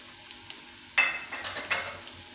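Green capsicum, carrot and corn sautéing in a pan with onions, a steady soft sizzle broken by two louder scraping stirs, close and with no talk.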